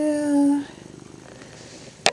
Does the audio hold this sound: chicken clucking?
no